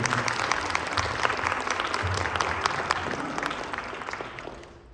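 An audience applauds Choctaw social dancers at a performance, dense sustained clapping that holds steady for most of the span before fading slightly at the end, with no talk over it.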